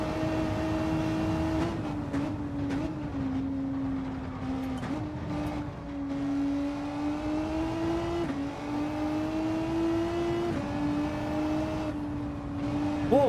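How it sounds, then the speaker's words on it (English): In Gran Turismo 7, a race car's engine holds a steady high drone at speed, its pitch dipping and climbing slightly through gear changes with no talk over it. "Need to rev this car out as well."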